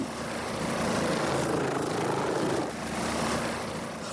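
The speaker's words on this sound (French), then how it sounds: "Elle est portée jusqu'à l'hélicoptère, puis évacuée vers l'hôpital de Chamonix" A rescue helicopter near a mountain evacuation in the Chamonix area gives off a steady, loud, close rotor and engine roar that fills the whole stretch without letting up, with no talk over it.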